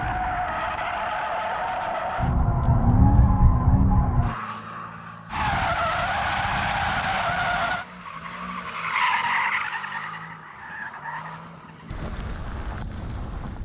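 A Mercedes-AMG E63 S in drift mode slides with rear tyres skidding and squealing, long loud screeches in several sustained bursts broken by abrupt cuts, with engine roar beneath and no talk.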